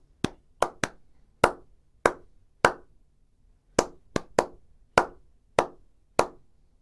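A single pair of hands claps out a song's rhythm phrase: about fourteen sharp, close, dry claps in uneven groupings with brief pauses between them, alone with no talking.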